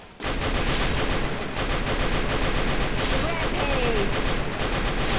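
Continuous, dense automatic gunfire in the Garena Free Fire mobile battle-royale game, a loud sustained burst of rapid shots that starts abruptly and keeps going for several seconds without a break.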